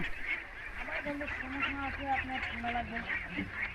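Khaki Campbell ducks on a riverside farm quack in a busy, overlapping chorus of short nasal calls, fairly close and continuous.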